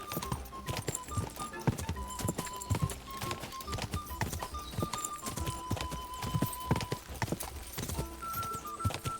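Rapid clip-clop of hooves as a horse gallops in Kingdom Come: Deliverance 2, at a steady rhythm, with occasional tonal game sounds layered over a busy background.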